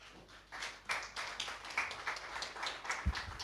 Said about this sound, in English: Can we give him a bigger round of applause?